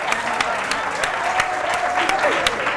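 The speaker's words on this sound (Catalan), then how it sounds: "Continuem jugant, aplaudiu" A studio audience on a Catalan TV spelling game show applauds in a steady burst of clapping lasting a few seconds, with a voice partly heard over it.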